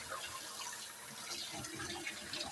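Running water rinses raw pork after a ten-minute soak in vinegar and lime juice, a steady broadband splash and hiss close by, continuous throughout with no talking.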